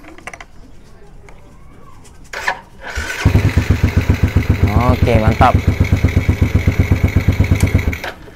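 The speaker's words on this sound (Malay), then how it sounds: "Jadi kita hidupkan je motor ni." A motorcycle engine cranks and catches after a few quiet seconds, then settles into a loud, steady idle with a rapid pulsing throb close by, while someone speaks briefly over it.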